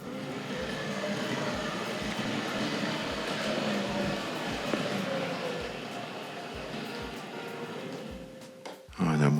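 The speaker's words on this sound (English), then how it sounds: "Lovely whine from the wheels." A Tri-ang / Hornby Dublo model train locomotive runs steadily on track, its wheels giving a continuous whine with faint rhythmic clicks at rail joints, ending in a brief louder clatter.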